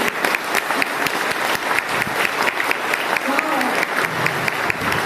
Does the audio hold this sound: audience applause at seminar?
yes